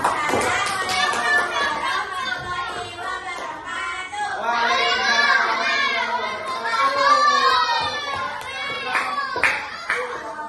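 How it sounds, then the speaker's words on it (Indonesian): Schoolchildren in a classroom applaud a student group, with rhythmic clapping mixed into lively children's chatter and excited voices that continue throughout. "tepuk tangan untuk kelompok A"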